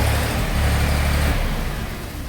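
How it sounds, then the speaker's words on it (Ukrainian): A Dongfeng 244 G2B compact tractor arrives at a mini-tractor dealership, its loud, close diesel engine running with a steady low rumble that eases slightly toward the end, with no voices. "Приїхав теж під клієнта даний тракторець."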